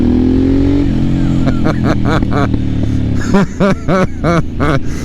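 A 2024 Harley-Davidson Sportster S engine rumbles with its exhaust flap open, then blips its throttle in a series of sharp, loud revs that bark and fall away, close by.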